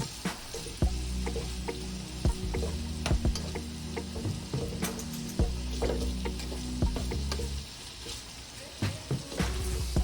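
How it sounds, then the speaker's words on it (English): Bacon fries in a pan, a steady close sizzle and crackle with scattered sharp pops and ticks from the spattering fat, and a low hum underneath; no one speaks. "we will continue to fry our bacon until it's golden brown"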